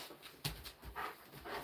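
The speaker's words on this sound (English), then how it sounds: "Naughty little doggy you got outside the yard today." A small dog whimpers outside in a yard, giving faint, short whines and yips in quick bursts, quiet and close.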